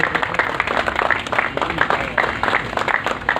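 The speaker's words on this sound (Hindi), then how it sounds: "सभी लोग खड़े होकर ताली बजाकर हमारे दर्दी साहब के लिए स्टैंडिंग ओवेशन दें" Standing ovation for Sardar Jagjit Singh Dardi, a Padma Shri awardee, at a journalists' gathering in Karnal: dense, continuous crowd applause of many hands clapping, loud and sustained throughout.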